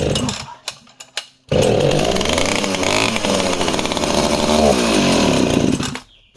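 A vintage 1960s chainsaw catches on a squirt of fuel and roars loudly and steadily for about four and a half seconds before cutting out, after a few brief sputtering pulls.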